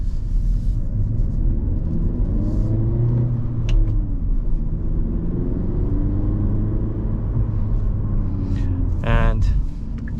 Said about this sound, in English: This 6-speed manual transmission is actually easy to drive.